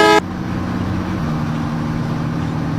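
Vehicle engine and road traffic while overtaking on a road, opening with a brief horn toot, then a steady loud engine drone with low hum that runs on alone.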